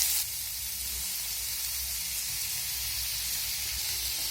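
Onion, ginger and garlic frying in hot oil in a pan while being stirred, giving a steady, soft hiss and sizzle throughout with a faint low rumble beneath.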